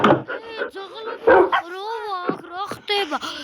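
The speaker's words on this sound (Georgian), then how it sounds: "რა ხდება ძაღლების ხროვა" A pack of dogs barks and yips in quick, overlapping bursts, some close and loud, with whimpering, rising whines mixed in and no clear speech.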